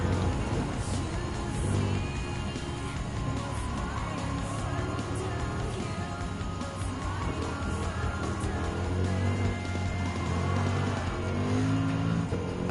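A 2007 BMW M3 race car in Gran Turismo 7 holds a steady, loud engine drone at high revs throughout, with small pitch shifts as it accelerates and no voices over it.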